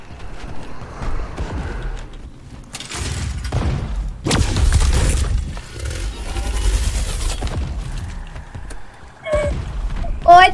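Cannon fire in the video game Midnight Ghost Hunt, a few heavy booming blasts mixed with other game noise, while a player talks excitedly over it.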